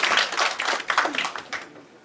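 Applause at a public hearing of the Korean Amateur Radio League, a short burst of clapping from a modest indoor audience that thins out and fades after about a second and a half.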